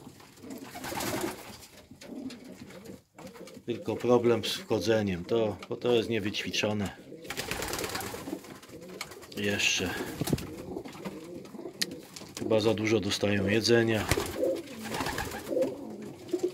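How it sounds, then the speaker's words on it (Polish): Homing pigeons coo softly at a loft after a 46 km training flight, a low steady murmur running beneath a man's ongoing speech. "To są gołębie bojowe, wojskowe."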